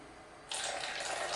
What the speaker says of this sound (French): On l'ouvre, on en fait couler, on la prend direct du robinet froide